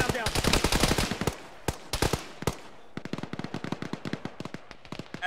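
Rapid bursts of automatic gunfire from a military video game rattle loudly and close, with dense volleys followed by a steadier string of evenly spaced shots.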